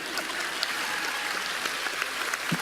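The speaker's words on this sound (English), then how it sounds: "More clapping hands, please." A theatre audience at a graduation ceremony in Queen Elizabeth Theatre, Vancouver, applauds a valedictorian's speech with dense, steady clapping that fills the hall, sustained at an even level without voices.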